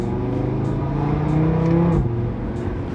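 A Toyota car engine drives on a race track, a loud, steady close drone whose pitch climbs smoothly under acceleration and then drops sharply as it shifts, with no one speaking.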